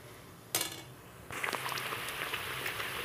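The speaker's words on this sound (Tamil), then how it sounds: "இப்போ நம்மளோட நெய் நல்லா கொதிச்சுக்கிட்டு இருக்கு" Butter melts and boils into homemade ghee in a pan, a faint bubbling sizzle with a couple of soft metallic clinks of a utensil against the vessel.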